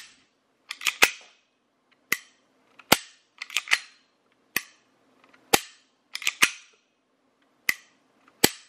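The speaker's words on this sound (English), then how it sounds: "It has a very smooth trigger and a great reset." Dry-fired trigger of a Glock 17 paintball pistol, about a dozen sharp close-up clicks, some paired as pull and reset, spaced irregularly across quiet gaps with no talking.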